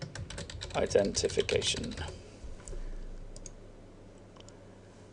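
Rapid keystrokes and clicks on a computer keyboard, clustered in the first two seconds, then a few scattered taps as a voice speaks briefly.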